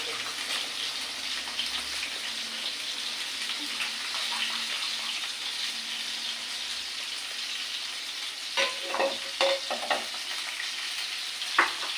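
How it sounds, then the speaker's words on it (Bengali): Pieces of fish belly fry in a pan with a steady, close sizzle, and a few louder bursts of spattering come near the end, with no one speaking. "মাছটা এবারে ভাজি করে নেবো।"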